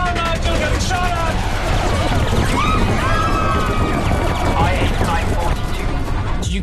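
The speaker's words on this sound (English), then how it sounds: "Getting shot at!" Dense World War II battle gunfire in a war film, a loud continuous rattle of shots mixed with crashes and whistling, under shouted voices.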